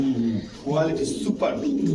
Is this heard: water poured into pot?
no